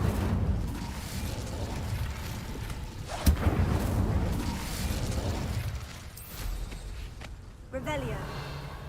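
An Incendio fire spell is cast in Hogwarts Legacy, a sharp burst followed by whooshing, crackling fire and booming effects over steady game ambience, with a second flaring burst near the end.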